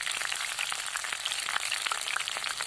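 Fish paste spread over gourd leaves frying in hot oil, a steady dense sizzle with fine crackles and pops throughout, close and fairly quiet, no voices.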